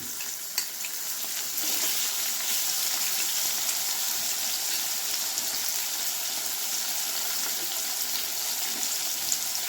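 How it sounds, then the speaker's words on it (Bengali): A splash of water goes into a cooking pot of potatoes and drumsticks with a ground cumin and green chili paste, setting off a steady, close sizzle and bubbling that fills the whole stretch without any talk. "এটা ধুয়ে সামান্য একটু জল আমি দিয়ে দিলাম।"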